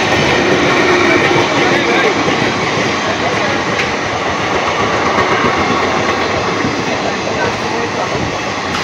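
The Kanchankanya Express, a sleeper class train from Kolkata to Siliguri, runs on rails with a loud, constant rumble and rattle of wheels and carriages, heard from inside the coach.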